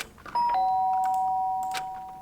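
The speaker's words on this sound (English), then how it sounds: "The sharp sound of the doorbell pierced my sleepy haze and pulled me back to the real world." A two-tone electronic doorbell in the video game Danganronpa: Trigger Happy Havoc chimes once, a bright high note dropping to a lower one that rings out and slowly fades.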